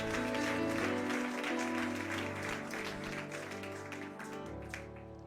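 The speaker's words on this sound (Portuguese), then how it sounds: "Você pode aplaudir o nome do Senhor?" Church congregation applauding during a worship service, moderate clapping mixed under prominent sustained keyboard chords that carry on throughout.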